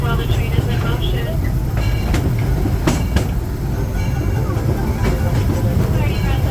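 The Disneyland Railroad train rumbles steadily with low rolling noise and occasional sharp metallic clacks, loud and continuous throughout.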